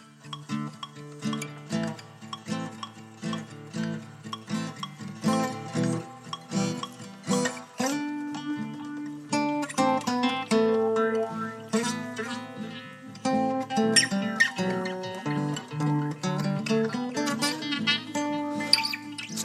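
Layered acoustic guitar loop playing back from a smart guitar's built-in looper, with strummed chords and picked notes stacking into a continuous, busy musical passage at steady moderate loudness and no talking.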